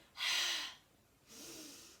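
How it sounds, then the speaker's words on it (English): Belly breathing during an evening stretch and strength class: two long, breathy exhales out through an open mouth, the first louder and the second softer, close and alone with no talk. "we have our mouths open and we let the air out through our mouths as we bring our tummy muscles in"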